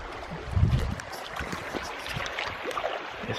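Creek water flows and splashes in desert country as a dog wades in to cool off, a steady close burble with a brief louder splash near the start.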